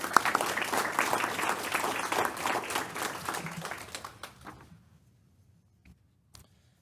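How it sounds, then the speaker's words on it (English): Applause at a school board meeting, a roomful of people clapping steadily before tapering off into quiet, with a couple of last stray claps at the end. "So I think that's worthy of an applause."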